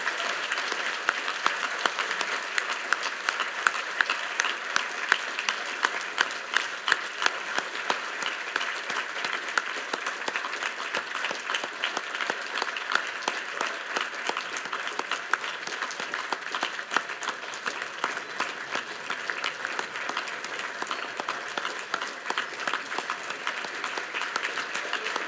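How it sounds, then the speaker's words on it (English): Sustained audience applause at a U.S. Naval War College graduation ceremony, dense, even clapping from a large crowd that holds steady at a constant level for about twenty-five seconds. "Please join us in a round of applause for our graduates,"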